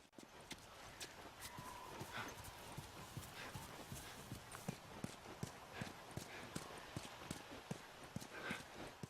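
Steady clip-clop of horse hooves plodding along at a walking pace in The Last of Us video game, fairly close, with a soft continuous background hiss and no talking.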